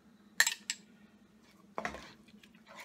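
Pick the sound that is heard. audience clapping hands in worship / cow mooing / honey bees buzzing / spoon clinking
spoon clinking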